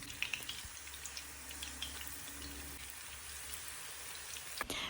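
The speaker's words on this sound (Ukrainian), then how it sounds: "А на сковорідку викладаємо смажити наступні оладки." Quiet crackling and sizzling runs continuously as battered artichoke fritters fry in hot oil in a pan, with a few soft clicks and pops on top.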